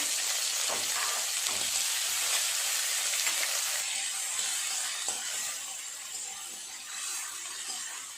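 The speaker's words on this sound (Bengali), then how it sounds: "পেঁয়াজটা আর একটু ভাজা ভাজা হোক।" Chopped onions frying in oil after bay leaf, dried red chilli and whole spices, a steady broad sizzle with faint stirring scrapes, close and continuous, easing slightly toward the end, no talk.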